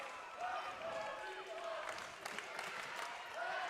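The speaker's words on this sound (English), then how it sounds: "Crowd getting involved here" Crowd at a high school volleyball match between Merritt Island Christian and Calvary Chapel, cheering and clapping in a distant, steady wash beneath continuous commentary.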